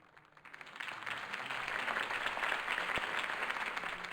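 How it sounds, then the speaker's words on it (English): A crowd applauding after a campaign speech in Batman: The Telltale Series, sustained dense clapping that rises within the first second and holds steadily, fairly distant and even, with no voices over it. "heard that applause"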